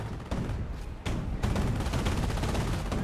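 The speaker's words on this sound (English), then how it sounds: "Now got some artillery being brought in off the power shoot, likely from the US player." Artillery fire rains down in a Company of Heroes battle, a dense rumbling barrage of booming impacts with a sharp burst near the one-second mark. It is fairly quiet and continuous, with no voices.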